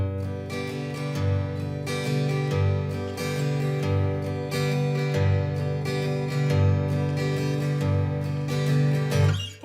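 An acoustic guitar gently strums the chords of a song with a soft touch on the bass strings, playing a steady, sustained rhythm up close with no voice over it.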